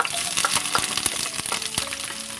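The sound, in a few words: shallots frying in hot oil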